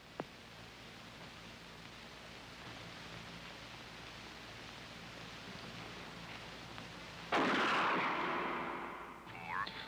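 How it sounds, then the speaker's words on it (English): A single gunshot in an old film scene, a sudden loud blast near the end after quiet hiss, fading with a rustling tail. "Shoot Bobby, Raymond. Through the forehead."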